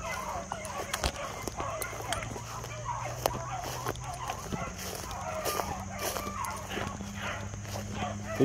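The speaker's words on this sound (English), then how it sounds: "He's still barking on him." A rabbit-tracking hunting dog barks now and then outdoors during a hunt, mixed with other animal and farmyard noises and some voices talking.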